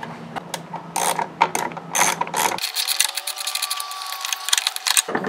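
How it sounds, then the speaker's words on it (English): A socket wrench ratchets a 7mm screw out of a Chevy Traverse taillight cover, giving quick close clicking runs in short bursts, with a brief squeaky scrape partway through. "socket wrench."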